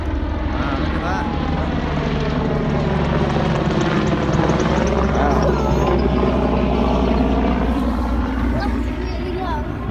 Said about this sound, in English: You see the helicopter